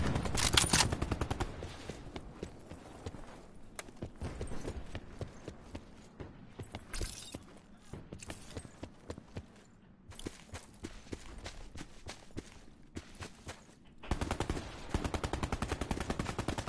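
Sniper gunfire in a video game, loud sharp cracks and bursts recurring irregularly over a steady mechanical background, with a cluster at the start and another near the end.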